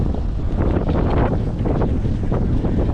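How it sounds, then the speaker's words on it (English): Strong wind roars continuously across the microphone aboard a boat crossing Lake Victoria at night, a loud, steady buffeting rush with no pauses. "The wind is so crazy."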